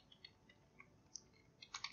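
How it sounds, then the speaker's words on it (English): Quiet clicking of keys on a computer keyboard, a few scattered taps that end in a quick burst of typing, faint and close. "So type in G933 update underscore version and your version here, mine is 27, so I'll type 27.exe"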